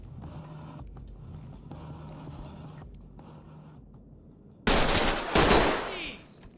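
Gunfire in Ready Or Not bursts out loud and close near the end, a dense rattling volley after a quieter stretch of low rumble and game ambience.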